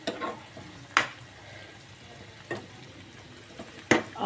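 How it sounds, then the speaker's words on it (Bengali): Eggs dropped into boiling curry gravy in a pan for egg kosha, a soft bubbling simmer broken by three sharp splash-and-sizzle bursts spaced a second or so apart, close and moderately loud with no talking. "ঝোল ফুটে গেছে, ডিম দিয়ে দিচ্ছি আমি"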